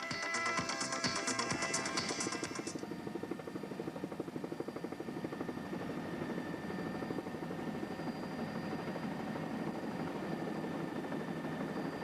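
A helicopter descends toward a landing stage in Lower Manhattan, its steady rotor chop and engine whine droning close and continuous, with a brighter high whine fading early on.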